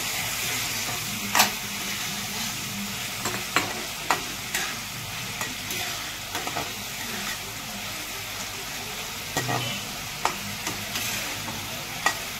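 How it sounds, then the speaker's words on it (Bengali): Koi fish curry with coriander leaves being stirred in a pan, a steady frying sizzle under sharp, scattered scrapes and clicks of the spoon against the pan, close and fairly quiet. "এবার আমি একটু নেড়ে"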